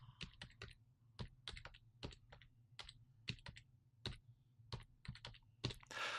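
Keys on a computer keyboard tapped in quick irregular bursts as a password is entered, each keystroke a crisp close click with short pauses between clusters.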